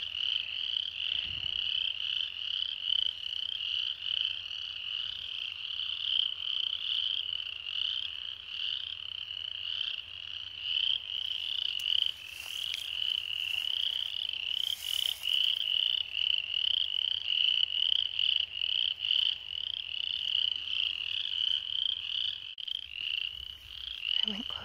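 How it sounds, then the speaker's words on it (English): Frogs croak in a steady, dense chorus outdoors near railroad tracks at midday, a continuous pulsing drone that stays loud and unbroken throughout with no voices. "I don't want to scare the frogs too badly."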